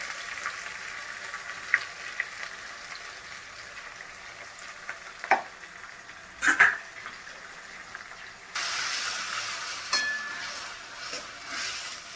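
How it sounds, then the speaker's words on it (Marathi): Ground coriander spice paste being sautéed in a pan while making vada pav, a steady soft frying sizzle with a few stirring clicks, growing brighter and louder in the last few seconds, with no talking. "ते वाटण आपण वाटून घेतलेलं हे आता परतून घ्यायचं"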